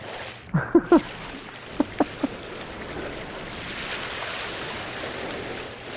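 Choppy ocean waves during a storm in the video game No Man's Sky: a steady, rushing wash of surf and wind fills the scene, with a few short, bright tonal blips near the start.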